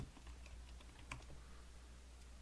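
Fingers type on a computer keyboard during a Dungeon Crawl Stone Soup game, with quick, faint, uneven keystroke clicks over a low steady hum.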